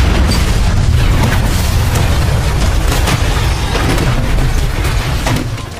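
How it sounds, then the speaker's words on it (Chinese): A tank in a sci-fi film fires a sustained barrage. Loud, continuous booming and rumbling explosions blend into a dense wall of sound that barely lets up, then eases slightly at the end. "他远程操纵着诸式坦克，直接对着两人进行火力覆盖。"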